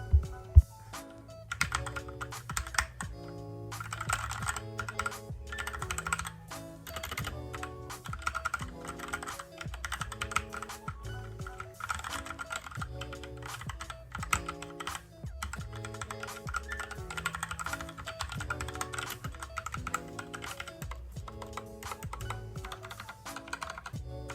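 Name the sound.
typing on a Redragon Kumara K552 mechanical keyboard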